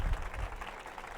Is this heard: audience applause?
yes